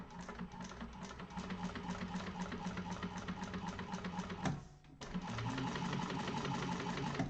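A sewing machine top stitches a fabric handbag in a rapid, steady run of stitching, close and clear, stopping briefly for a moment before resuming at the same pace.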